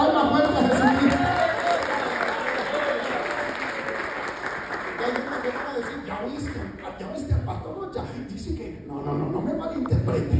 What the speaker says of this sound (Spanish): Dale palmas fuertes a Jesucristo.